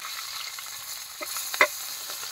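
Fish sizzles in hot oil in a frying pan, a steady soft crackle with a few brief louder pops and scrapes near the end, no voices.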